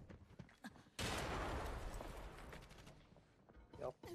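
P90 submachine gun firing in the shooter game Arena Breakout, a loud close burst of rapid shots lasting a few seconds and then trailing off into quieter game noise.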